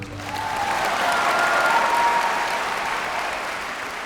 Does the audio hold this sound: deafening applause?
yes